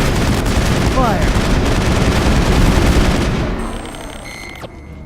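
Heavy gunfire in the video game Mass Effect: dense, continuous rapid shots and blasts, loud and close, thinning out and fading near the end.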